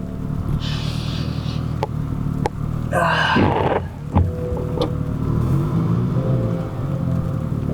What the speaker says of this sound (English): Can you hear that? We're misfiring something serious.